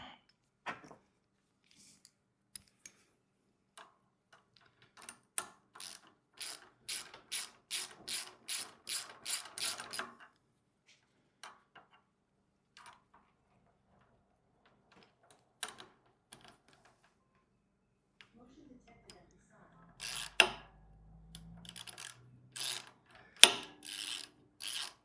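A ratchet tightening the handle mount on a VEVOR plate compactor with a 2.8 HP 78.5cc gas engine: quick, close bursts of metallic clicking between quiet pauses, with a louder run of clicks near the end.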